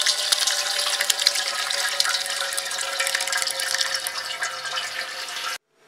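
Plum mash is poured through cheesecloth and a colander, giving a continuous close splashing, trickling rush of liquid that stops abruptly near the end.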